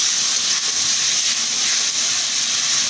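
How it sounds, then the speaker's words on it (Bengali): Ginger, garlic and onion paste frying in a pan for an egg curry with sweet pumpkin, a loud, steady, close sizzling hiss that continues without a break. "আমি আদা রসুনটা ভালোভাবে কষিয়ে নিচ্ছি।"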